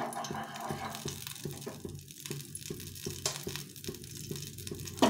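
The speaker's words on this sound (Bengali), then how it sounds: "আর কিছুটা টিকিয়া মতো ভেজে নেব" Chhena and capsicum tikki fry in a little oil, giving a close, steady sizzle with crackling pops and faint rhythmic taps, without talking.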